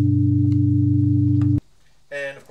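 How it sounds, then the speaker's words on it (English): A synthesized chord of pure sine tones on G2, B2, D3, G3, D4 and G4, generated with SoX, hums loud and steady with a slight pulsing beat. It cuts off sharply after about a second and a half, and a voice then speaks briefly. "We can go like this to where we're playing a G2, a B2, a D3, a G3, a D4, and a G4, all as sine waves here."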